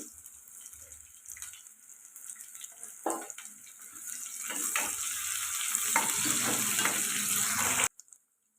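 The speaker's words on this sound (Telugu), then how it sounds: "ఇవి ఇప్పుడు ఫ్రై అవ్వాలండి. ఇలా ఫ్రై అవుతున్నాయి కదండి." Onions and coarsely crushed garlic frying in oil for a drumstick dal curry, a quiet sizzle that swells into a loud, steady crackle and hiss after a clatter, then cuts off abruptly.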